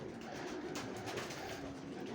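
Pigeons coo steadily inside a pigeon loft during the breeding season, a dense, continuous murmur of several birds layered together at close range, with no talking.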